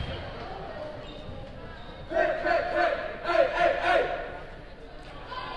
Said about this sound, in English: The Bedford Road basketball team cheering for Pitt here.